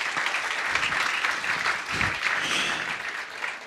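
Audience applause at a live business talk, a dense, steady wash of clapping from a crowd that holds at an even level for several seconds before easing slightly at the end.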